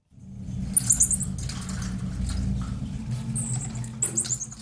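A marmoset monkey shut in a cage inside a large bag left on a London bus, giving thin, high-pitched chirping squeaks in short bursts above a steady low rumble.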